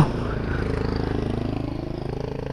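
A motorcycle engine runs close by in a steady, pulsing idle with a low, throbbing tone that holds evenly for a couple of seconds.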